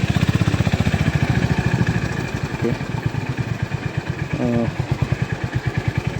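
A motorcycle engine runs close by at a homestay stop in Dapoli, its steady rapid thumping idle rising and falling slightly, with a few brief voices in the background.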